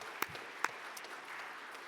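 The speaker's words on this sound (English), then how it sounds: "So give them a warm round of applause and welcome them up onto stage." Clapping from the audience at an awards ceremony for passenger transport, with a couple of sharper individual claps standing out over a thin, continuous patter of hands at a modest distance.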